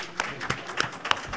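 Scattered hand claps at a French-language public event, a handful of separate sharp claps spaced unevenly over a brief stretch, thin and moderately close with no talk over them.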